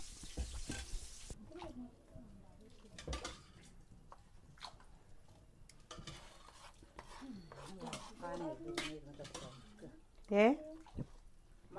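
Green chillies frying in a pan at home, with soft stirring, scraping and clinks of utensils against the pan under near-constant talk and a brief high-pitched exclamation near the end.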